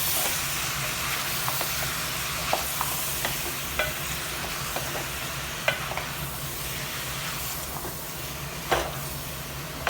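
Beef liver (kaleji) fries in a pan with garlic-ginger powder and spices, giving a continuous soft hiss of frying broken by scattered light clicks and scrapes as it is stirred.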